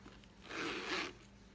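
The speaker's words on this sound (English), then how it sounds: "There's the zipper." A single soft zipper pull on a vintage Coach bag, quiet and close, lasting about half a second against faint background hum.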